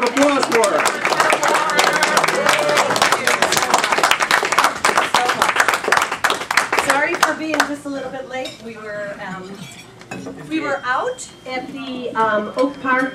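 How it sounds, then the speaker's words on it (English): An evening audience at a Frack Free Illinois legislation event applauds for an introduced speaker, loud dense clapping that thins out midway as scattered clinks and chatter take over. "Let's have a warm round of applause for her."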